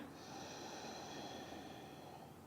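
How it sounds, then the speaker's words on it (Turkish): A slow, calm exhale through the nose during a yoga breathing exercise for stress relief, a single long soft breath heard close and quiet, with no talking. "Tekrar burnundan sakince ver."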